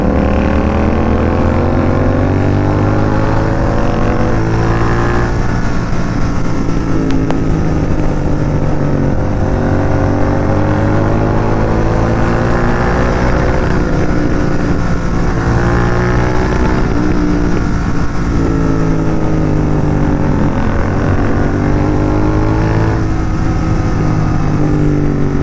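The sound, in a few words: Royal Enfield Continental GT 650 motorcycle engine riding at night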